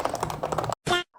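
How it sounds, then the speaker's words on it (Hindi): Switches of an Ant Esports MK801 V2 Pro keyboard typed in a quick run of close clicky keystrokes, then a short pause, one louder key press and a faint final tap. "तुम्हें इस कीबोर्ड के स्विचेस का साउंड भी सुना देता हूँ"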